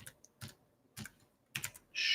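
A few sharp keystrokes are tapped on a computer keyboard in short separated clusters, close and quiet, ending in a quicker burst of clicks.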